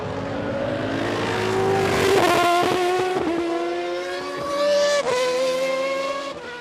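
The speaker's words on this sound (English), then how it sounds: "Ayrton Senna is coming in, and he was leading Prost by about 15 seconds, and the Brazilian comes up to the line now" Ayrton Senna's McLaren Formula One car at the 1993 European Grand Prix screams past loudly, engine pitch rising and shifting through gears with a sharp Doppler drop, no speech over it.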